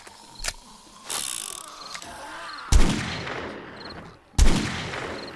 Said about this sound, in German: Alter, der Revolver. Der hat zwar Wumms, ne?